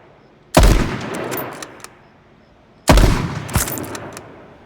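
Sniper gunfire in the video game H1Z1: two sharp, loud shots about two seconds apart, each followed by a rolling echo and a few smaller cracks.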